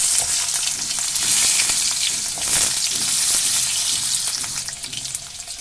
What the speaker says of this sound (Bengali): একটা আলু কেটে রেখে দিয়েছিলাম সেটা এই তেলের মধ্যে দিয়ে ভেজে নেব